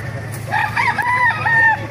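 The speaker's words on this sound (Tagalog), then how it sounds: "Papakita ko sa inyo mga manok dito sa Bukay mga kamas." A rooster crows loudly and close at a chicken market in Bocaue, Bulacan, with a drawn-out multi-part call over a steady low background hum.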